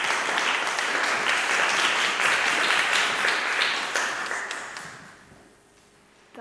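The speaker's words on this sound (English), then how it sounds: "Give a big applause to Masayo" A workshop audience in Singapore applauds warmly, a dense steady wash of many hands clapping nearby that thins and fades away over the final seconds.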